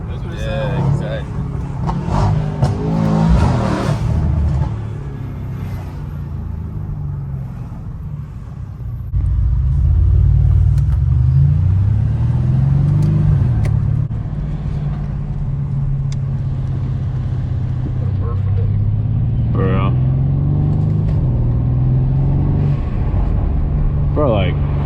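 A tuned Mercedes C63s AMG heard from inside while driving: a deep, loud engine rumble with rising and falling revs and turbo whoosh, under excited talk and whoops from the occupants.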